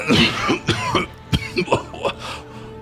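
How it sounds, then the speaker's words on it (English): Throat-clearing coughs bringing up sand and grit, several rough hacking bursts in quick succession, loud and close with no other voices. "it kind of just coughs out with a combination of boogers and sand and grit"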